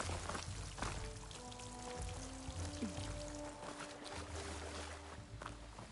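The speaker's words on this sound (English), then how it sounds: "There's a lot of water here." Steady running water in the video game Horizon Forbidden West, a continuous pouring wash that holds throughout, moderately close, with faint tonal game music underneath.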